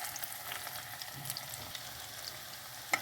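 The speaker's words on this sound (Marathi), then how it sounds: "हे डीप करायला ठेवलं. तेल फ्राय करून घेऊया आपण." Hara bhara kebabs deep frying in hot oil, a steady soft sizzle and crackle running evenly throughout with small bursts and one sharper pop near the end.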